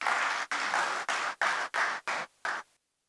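Audience applause at a birthday ceremony in a Lahore hotel hall, loud and dense, arriving in several bursts that break off briefly and then stop abruptly.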